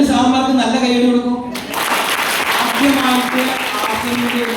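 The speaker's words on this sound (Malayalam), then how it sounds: "2 സാറന്മാർക്ക് നല്ല കൈയടി കൊടുക്കും" Someone speaks loudly over an amplified hall, then a crowd at a business meeting joins in with a steady wash of clapping that continues beneath his voice to the end.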